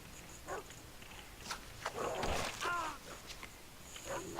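A dog barks in the video game Far Cry 3. A short cluster of harsh barks and growls sits amid in-game noise.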